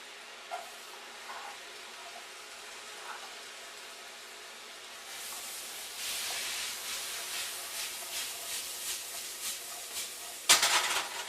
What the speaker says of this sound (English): And in there we're going to throw our apples.